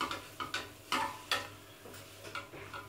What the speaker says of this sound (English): Let's stir these.